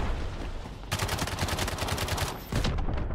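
A rapid burst of gunfire and explosion booms in a shooter video game breaks over a noisy background, pauses briefly, then resumes loudly, with no talking.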